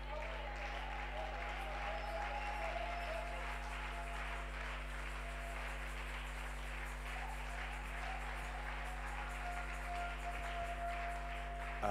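A church congregation applauds, a steady dense clapping that runs unbroken throughout over a low hum.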